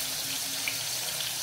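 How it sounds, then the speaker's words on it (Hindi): Quince and brinjal pieces frying in oil in a kadhai, a steady close hiss and sizzle with no pauses. "फ्राई हो रहा है।"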